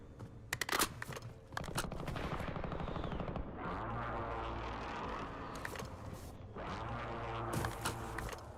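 Call of Duty Warzone gunfire in Verdansk, with a few sharp shots followed by sustained rapid automatic bursts over a rumbling background, fairly faint overall.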